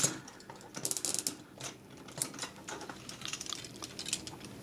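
A Transformers Dark of the Moon deluxe Ratchet toy has its plastic arm folded, giving faint, close clicks and small ratcheting snaps in short irregular bursts.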